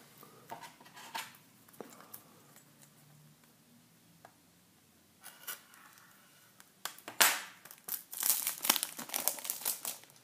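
A sealed CD jewel case in a sleeve being unwrapped, its plastic wrap crinkling and crackling in scattered bursts that grow louder and denser toward the end, close by with no talk.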